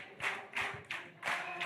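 A church congregation clapping hands in four or five evenly spaced, sharp group claps, fairly close, steady and rhythmic, with no talking.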